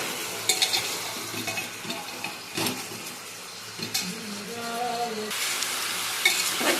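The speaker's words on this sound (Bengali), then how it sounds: "খাসির ঠ্যাংগুলোকে দিয়ে দিয়েছি। এটাকেও ভালো করে এখানে ভেজে নেব।" Mutton legs and vegetables frying together in a pan, a moderate sizzle with spoon scrapes and pan clinks from stirring, fairly close and without talk.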